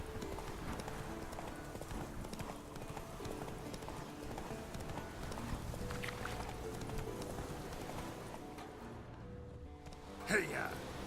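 Hooves of Roach, a horse in The Witcher 3, clip-clop steadily at a gallop throughout, with a voice talking over the riding and a brief splash near the end.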